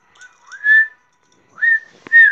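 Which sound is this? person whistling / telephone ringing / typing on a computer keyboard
person whistling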